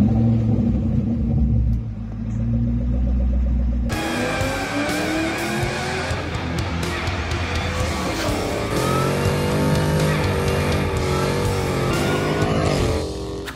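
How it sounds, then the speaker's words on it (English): A car engine at idle, then revved lightly a few times, the deep rumble rising in pitch and holding steady before easing off, close and loud with no talking. "when I rev it a little bit"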